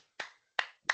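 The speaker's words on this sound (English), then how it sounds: "Everyone, please a quick unmute and applause." Three separate, sharp hand claps, close and isolated with silence between them, as from one or two attendees clapping in an online meeting.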